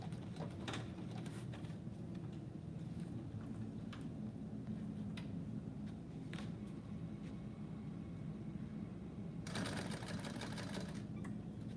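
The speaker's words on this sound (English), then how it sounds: "Lee, everybody should know how to sew on a machine" A sewing machine runs continuously with a steady mechanical hum and rapid stitching patter, close and even throughout, with a brief sharper burst near the end.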